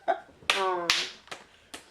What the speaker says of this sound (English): that was a clap